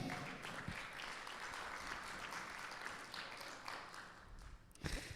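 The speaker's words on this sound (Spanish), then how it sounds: "un fuerte aplauso para el Señor." A church congregation claps steadily for several seconds, moderately distant and fairly soft, thinning toward the end with a couple of sharper claps near the close.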